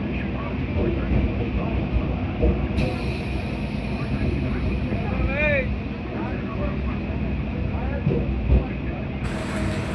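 A Sealdah–Canning local train rolls along with a continuous low rumble and rattle of the carriages, steady throughout with a few faint squeaks rising above the din.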